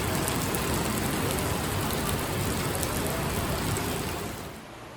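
Steady rain falls in Japan at day's end, a dense, loud, even hiss of drops on surfaces that fades out near the close.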